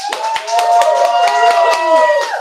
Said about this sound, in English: Give us some hand clap.